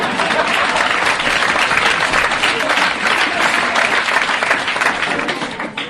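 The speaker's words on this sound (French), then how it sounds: "Viens et on l'applaudit très fort." Loud, dense audience applause for a young girl called up on stage at a show, a strong steady round of clapping that holds throughout and tapers slightly at the very end.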